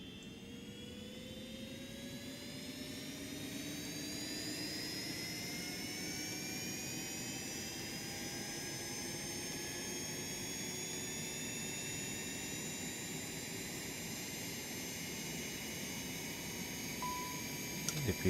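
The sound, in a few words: Citation X auxiliary power unit starting and running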